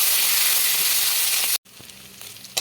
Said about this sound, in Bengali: তেলটা দিলাম আবার গোটা গরম মশলা, তেজপাতা, কাজু বাদাম কুচি, হালকা ঢেলে নেবো।